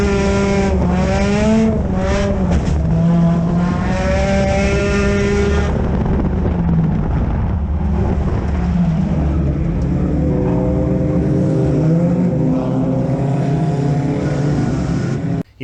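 Race car engine roaring continuously around an oval track after a wall contact left the rear end badly bent, loud and steady with rising and falling pitch as the car laps, no talk.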